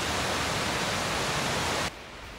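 Purling Brook Falls in the Gold Coast hinterland roars as a steady, loud broadband wash of falling water, heard close up before the level drops abruptly near the end.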